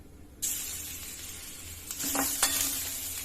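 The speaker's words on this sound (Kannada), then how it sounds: "ಸ್ವಲ್ಪ ಎಣ್ಣೆ ಹಾಕೊಂಡ್ಬಿಡ್ತೀನಿ ಅದರಲ್ಲಿ ಈಗ ಇದಕ್ಕೆ ಬೆಳ್ಳುಳ್ಳಿನ ಹಾಕೊಂಡ್ಬಿಡ್ತೀನಿ" Garlic sizzling as it drops into hot oil in a pan for poha chivda, a sudden steady frying hiss that swells briefly with a couple of stirring scrapes, close and alone.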